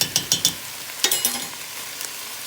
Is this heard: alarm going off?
no